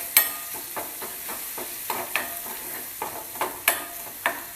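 A spoon stirs a turmeric-spiced bread pakoda filling in a sizzling pan, its scrapes coming in a steady rhythm of a dozen or so close strokes over a soft frying hiss, with no one talking.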